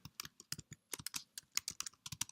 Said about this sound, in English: then I'm going to type in the course number